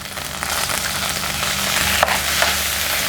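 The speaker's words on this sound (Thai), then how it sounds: "พอเครื่องต้มยำเราผัดให้หอมแล้วเราก็ตามด้วยกุ้งค่ะ" Shrimp stir-fried with pounded tom yam paste in a pan give a loud, steady sizzle with scraping stirring and a couple of sharp utensil clicks near the end.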